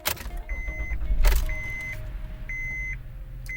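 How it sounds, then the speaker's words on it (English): A car with a VSA warning light and a recently blown fuse is started, giving a short cranking burst amid a steady engine rumble, with repeated electronic chime beeps sounding at regular intervals. "let's see when I start the vehicle if it's still there"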